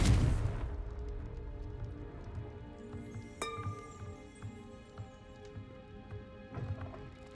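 The Confringo fire spell in Hogwarts Legacy goes off as a sharp, heavy blast right at the start, then fades into a low rumble with faint ambient game tones and scattered soft clinks.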